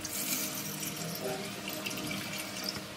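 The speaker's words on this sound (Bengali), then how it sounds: "এবার এর মধ্যে আমি একটু জল দিয়ে দিচ্ছি, নর্মাল জল যেটা, সেই নর্মাল জলটা দিয়ে দিচ্ছি।" Plain water runs steadily into a large bowl in a kitchen while preparing a yogurt fulkuri snack, a continuous soft splashing stream at low volume for a few seconds.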